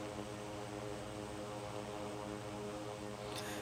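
Steady, loud propeller airplane engine drone from an aircraft departing Key West in the Infinite Flight game, a constant hum with layered harmonic tones and no break for the whole stretch.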